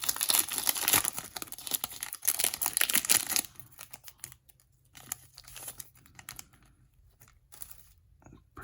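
A Detective Pikachu Pokémon card booster pack with stiff, hard packaging being pulled open, giving close crinkling and tearing crackles that are loudest early, then fade into scattered quieter rustles and handling sounds.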